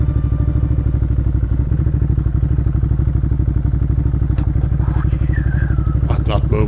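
An off-road motorcycle rides over frosty ground in the Irish countryside, its engine pulsing steadily and loudly up close, with some clattering and knocks from the rough terrain toward the end.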